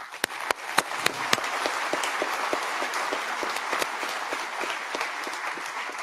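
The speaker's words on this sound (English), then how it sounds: "give a resounding round of applause to our incoming president" A large audience at a closing ceremony applauds the incoming president, sharp individual claps at first swelling into a loud, sustained wash of clapping.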